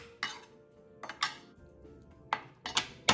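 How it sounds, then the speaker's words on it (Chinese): Shelled, deveined shrimp are slapped flat one at a time on a board, giving about six sharp, close thumps at uneven intervals in an otherwise quiet kitchen. "用力将虾逐一拍一拍"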